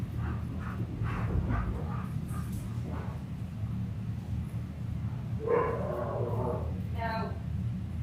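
Pet dogs in a home bark and yip in a few short bursts against a steady background hum, with people talking nearby between the barks.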